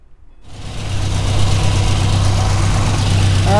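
A 1963 Austin-Healey Sprite engine fires up and settles into a steady, slightly rough idle after its carburetors are richened, close and fairly loud with no talking.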